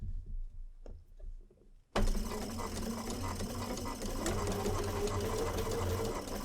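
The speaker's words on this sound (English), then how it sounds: "I'm going to start slowly stitching along the edge" After a near-silent pause with a few light clicks, a sewing machine starts up and runs steadily, stitching slowly along a curved fabric edge with a quarter-inch foot, close and continuous.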